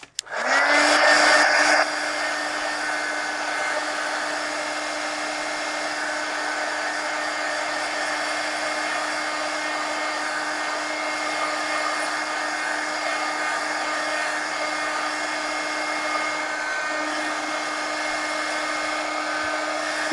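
A hair dryer runs close and loud, drying paint on a mixed-media napkin journal page with a steady whooshing roar and a constant hum that keeps going after a brief louder start, with no voices.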